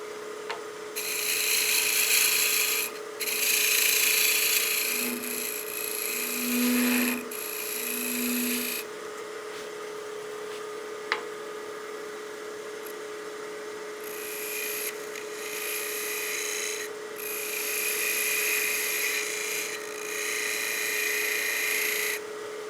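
A wood lathe turns a tenon on a small bat house ornament, giving steady rasping and scraping bursts of the tool cutting the spinning wood. The bursts stop and start, with a low motor hum underneath throughout and no talking.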